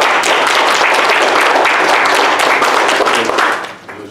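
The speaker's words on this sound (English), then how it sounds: "let us give them another round of applause." Sustained, dense applause from a large audience at a community meeting and barbecue, steady and loud for several seconds before tapering off at the end.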